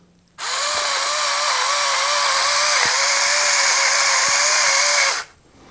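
An electric kitchen grinder runs on its coarse setting, a loud steady whirring grind close by with a faintly wavering motor pitch, starting abruptly and stopping after about five seconds, with no talk.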